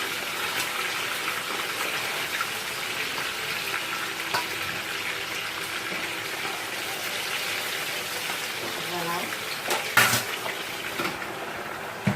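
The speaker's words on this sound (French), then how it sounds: "je suis juste en train de frire pour accompagner mes épinards" Food frying in a pan as a side for spinach, a steady close hiss and crackle of sizzling oil running throughout with a few louder spits near the end.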